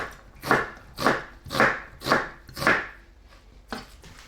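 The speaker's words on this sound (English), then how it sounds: "I'm just gonna cut quite big strips" A knife cutting food into thick one-centimetre strips on a board, five steady evenly spaced chops close up, then a pause and two lighter cuts.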